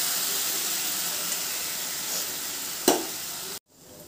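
Green chillies fry in a pan with a steady sizzling hiss; tamarind paste is added and a sharp, louder hiss rises briefly before the sound cuts off.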